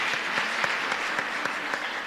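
A small audience claps for the organiser at a national tourism debate grand final, a steady, moderately quiet round of applause with individual claps standing out.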